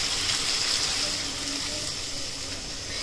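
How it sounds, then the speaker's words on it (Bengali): Water pouring steadily into a pan of hilsa fish and eggplant curry with softening tomatoes, a constant close gushing splash with no breaks. "আমি এখন দিয়ে দিব ঝোল"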